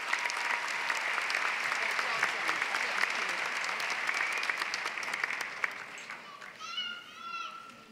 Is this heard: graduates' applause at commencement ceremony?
yes